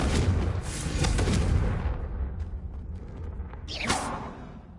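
Fire spells Confringo and Incendio cast in Hogwarts Legacy: a loud crackling, booming burst of flame at the start that dies away, then a second whooshing blast near the end.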